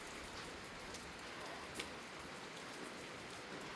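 Rain falls steadily outdoors as a dense, even hiss with a few faint drips and taps standing out, continuous with no voices.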